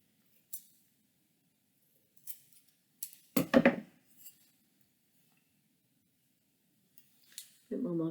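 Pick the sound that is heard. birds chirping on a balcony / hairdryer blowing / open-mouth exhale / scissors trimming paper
scissors trimming paper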